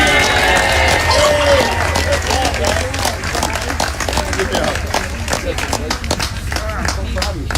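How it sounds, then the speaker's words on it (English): Audience applause at the White House Thanksgiving turkey pardon, a steady wash of clapping from a crowd that continues throughout, with a voice heard over it at the start. "Can everybody give Aaron and Austin a big round of applause?"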